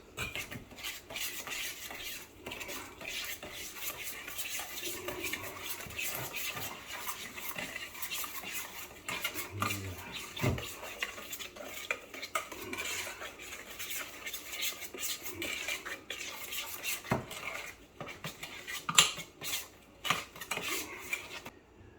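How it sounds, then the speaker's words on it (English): A spoon scrapes and clinks against a bowl while marinade for a roasted pig is mixed, giving a close, fairly quiet series of rhythmic stirring scrapes and taps with no talking. "And okay, it's your marinade. Mix."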